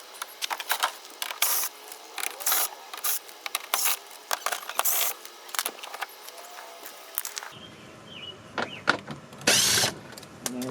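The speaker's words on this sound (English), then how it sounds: "Now we're taking out the rest of these bolts that are holding this plastic on." Ratchet clicking in quick bursts while bolts holding the plastic underbody panel are removed beneath a 2026 BMW G82 M4 Competition, close and fairly loud, with a brief lower-pitched rumble near the end.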